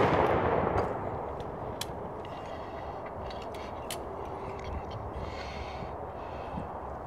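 Reenactors fire a musket volley on a Patriots Day march to Menotomy: a loud, broad crack opens the moment, then a long rolling rumble and outdoor ambience linger behind it.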